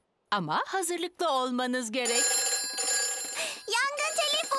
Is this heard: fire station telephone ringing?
yes